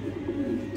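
A racing pigeon gives a short, soft, low coo, close by and brief.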